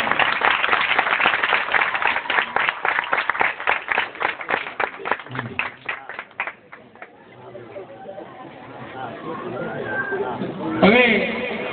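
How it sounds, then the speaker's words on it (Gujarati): A ceremony crowd bursts into strong, rhythmic applause, many hands clapping loudly and close, then thinning out after about six seconds into scattered claps, murmured chatter and voices. "જોરદાર તાળીઓથી બજાવો."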